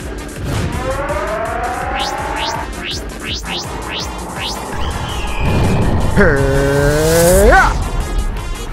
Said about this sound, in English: Man, the rescue cars are here.